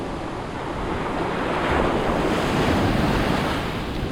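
Steady roar of ocean surf washing up on the beach at Manasota Key, Florida, heavy and continuous with wind buffeting the microphone, no voices.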